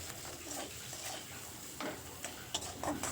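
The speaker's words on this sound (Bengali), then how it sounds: "নুন হলুদটা দেওয়ার পর আবারও একটু মশলাটা ভেজে নেব" Spice paste seasoned with salt and turmeric fries in a pan for a mixed winter vegetable curry, a soft continuous sizzle broken by light scraping and tapping of a spoon against the pan.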